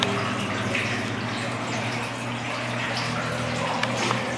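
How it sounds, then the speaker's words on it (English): A septic system pump runs steadily at a church's flow-equalization septic tank in Enfield, North Carolina, with water bubbling and gurgling in a continuous close wash, a few faint drips near the end. "And so you can hear the pump running. See those little bubbles?"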